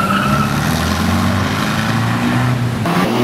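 A 1980s Chevrolet Opala coupé rolls past at an outdoor sports car meet, a loud, close engine drone with shifting pitch as it goes by.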